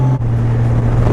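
A steady, loud Honda motorcycle engine drone with a sustained high-pitched hum, close up on the highway, with wind rushing over it.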